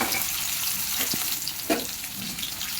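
A small hilsa fish head fries in a little oil, making a steady soft sizzling hiss with a couple of brief pops or stirs, close by and without talk.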